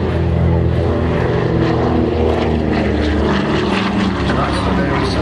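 A Curtiss propeller fighter with fixed landing gear flies at an air display, its engine a steady loud drone with propeller roar filling the whole stretch, no spoken words audible over it.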